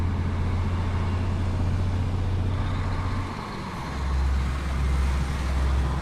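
A lorry's engine in Euro Truck Simulator 2 drones low and steady under load, then the pitch drops with a gear change before it settles into a deeper, continuous hum, with faint road noise.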